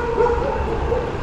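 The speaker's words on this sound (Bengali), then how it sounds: "চারপাশে কুত্তা ঘেউ ঘেউ করছে।" Dogs bark around a hotel in Daman, Gujarat, a steady chorus of yapping and woofing at moderate distance over a constant low background hum.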